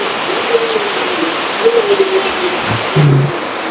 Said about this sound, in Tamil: இந்த மழை பெய்யுது